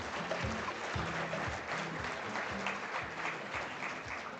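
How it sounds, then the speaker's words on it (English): A conference audience at an oil and gas gathering in Namibia gives a round of applause, sustained crowd clapping heard quietly over a low, repeating background musical pattern. "Let's give them a round of applause, ladies and gentlemen"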